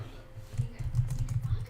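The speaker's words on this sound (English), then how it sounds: "So now to print out something, I'm going to type something." Soft keystrokes on a computer keyboard tap out code in a quick irregular patter, faint and close, under someone talking.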